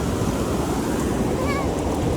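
Ocean waves wash continuously onto a beach at dusk, a steady broadband rush of surf with wind noise, close and loud throughout, with no clear voices.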